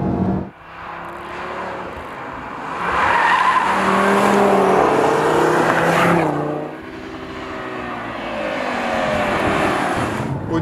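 A 2016 Audi TT RS with a five-cylinder engine and active flap exhaust roars loudly, revving up and sustaining a rasping high note before easing off and climbing again, heard up close without talk.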